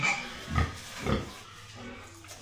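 A pig oinks in a small piggery: two low grunts about half a second apart, moderately close, followed by quieter barn background.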